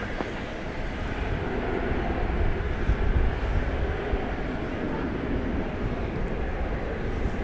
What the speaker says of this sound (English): Flight 1992 from Seattle, an Airbus A321.